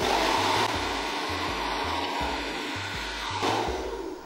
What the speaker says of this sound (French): Je vais tester la technique du sèche-cheveux.